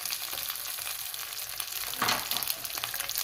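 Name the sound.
tomato coulis poured into hot oil, sizzling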